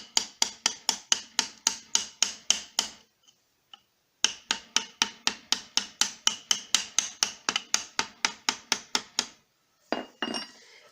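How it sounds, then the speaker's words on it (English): A screwdriver used as a chisel is struck repeatedly with a hammer while working on a 2007 Chevy Trailblazer steering rack, giving sharp metallic taps in fast, steady bursts, a short pause, then another long run of blows. "using a screwdriver for a chisel"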